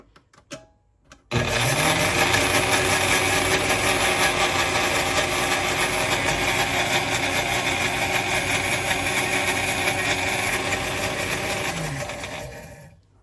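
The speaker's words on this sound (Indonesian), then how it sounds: "Kita blender lagi sebentar." An electric blender grinds rendang spice paste in a home kitchen, starting abruptly and running at a steady, loud whir for about eleven seconds before winding down, with no one talking.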